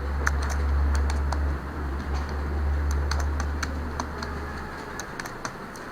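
Fingers type Hindi text on a computer keyboard in quick irregular bursts of sharp key clicks, close and clear over a low background hum, with no talking.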